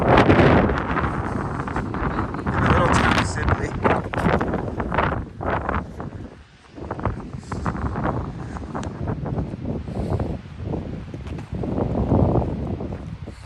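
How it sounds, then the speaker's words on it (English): Gusty wind roars across the microphone on a long-distance trail hike near the small town of Sibley, a steady rumble with short lulls, while a voice speaks over it. "Honestly, it's just windy and I'm cold."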